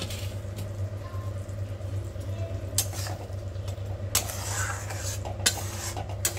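Spice masala being stirred and fried in a pan, a continuous low hum with light scraping and a few clinks of the spoon against the metal, close by.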